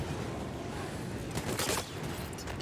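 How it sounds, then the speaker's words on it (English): Dense, continuous gunfire in the Battlefield 1 Monte Grappa map, with a louder burst of shotgun blasts near the middle standing out over the constant battle noise. "Oh, fucking shotgun."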